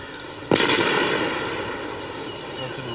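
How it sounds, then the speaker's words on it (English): A single loud grenade blast from a combat skills grenade throw test bursts sharply and then decays into a long, rumbling tail, with no other sound layered over it. "One of the first is a grenade throw"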